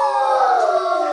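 A human voice imitates a wolf howl, a single sustained, wavering tone held for about a second at steady, fairly loud level.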